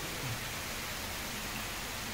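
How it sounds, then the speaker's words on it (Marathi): Steady rain pours down at Radhanagari, a dense, even wash of hiss with no breaks, constant and fairly loud throughout. "राधानगरीचं आकर्षण पाऊस सुरू झाला इथं"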